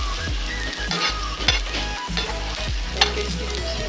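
An eggless vegetable and onion omelette fries in oil in a pan, giving a steady, loud sizzle throughout with a few sharp clicks of a spatula against the pan.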